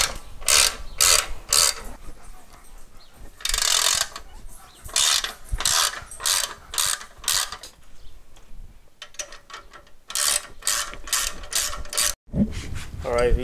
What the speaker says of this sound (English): We're gonna start by removing these 2 nuts right here. It's holding on to the factory bracket.